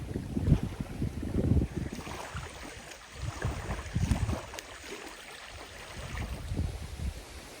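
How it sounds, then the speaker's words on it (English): Wind gusting over a microphone at a remote lakeside campsite on Green River Reservoir in Vermont, low rumbling buffets rising and falling in uneven waves, fairly quiet with no talk. "It is windy."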